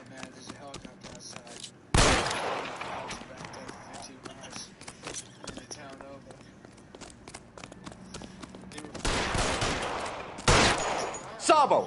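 Gunfire in the LA Noire video game: two loud, sharp bursts of shots, one at the start and another near the end, with game noise and voices around them.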